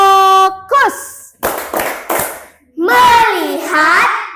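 Children in a classroom chant and clap through a rhythmic clapping game: three crisp, close claps come in a quick pattern between sung, drawn-out voices.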